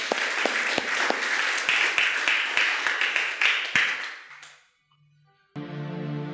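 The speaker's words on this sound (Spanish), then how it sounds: "Fuerte aplauso." A church congregation breaks into loud, sustained applause that fades out over several seconds, followed by a short pause before a voice begins speaking.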